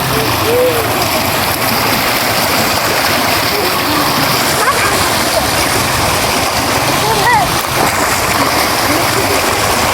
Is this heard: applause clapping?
no